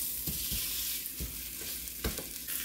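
Ground beef sizzling and frying in a Dutch oven under a steady hiss, with several soft thuds and scrapes as a meat masher breaks it up, close and fairly quiet, no talking.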